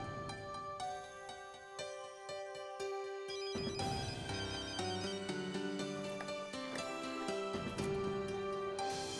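Telephone ringing with a repeated electronic ringtone melody that plays continuously and fairly close, with no voices over it.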